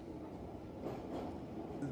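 A London Underground train of the oldest stock in regular service rumbles steadily nearby, a low continuous roar of wheels and motor with faint higher rattling.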